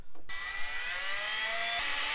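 A power drill bores a small pilot hole for a mounting leg during an ARB air compressor install on a Toyota Land Cruiser / Lexus LX470. After a short quiet start, a close, loud, steady high-pitched whine runs unbroken to the end.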